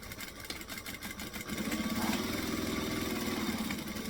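A sewing machine back stitches a seam while making a utility belt. Its motor hums and chatters quietly at first, then runs louder and steadier for the last couple of seconds, with no talking.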